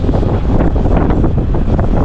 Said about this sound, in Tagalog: Ang sarap ng hangin day. Fresh na fresh.